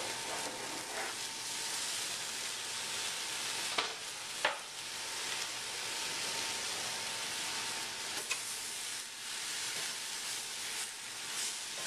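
Tomatoes hit a hot pan of fajita chicken and sizzle steadily up close, a dense, even frying hiss broken by a few brief clicks and knocks from stirring.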